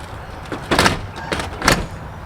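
An Aliner camper door swings shut over folded-up entry steps, giving three dull thumps spaced about half a second apart, the last two the strongest, close by with no talking.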